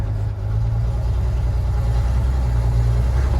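Old Holden panel van engine running just after starting, a steady low, heavy idle with a constant deep hum, loud and close, no talk.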